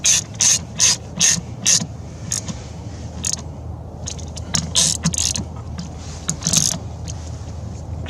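A ratchet tightening 10 mm bolts on the brake booster of a 2012 Dodge Grand Caravan, with quick bursts of close, bright clicking separated by short pauses and no talking.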